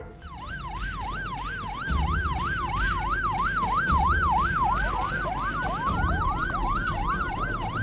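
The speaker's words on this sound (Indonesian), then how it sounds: "Polisi yang tiba-tiba datang disertai bunyi sirine" A police siren wails in a rapid, rising-and-falling yelp, loud and close, with a second siren joining over engine rumble, as police arrive at an illegal street race.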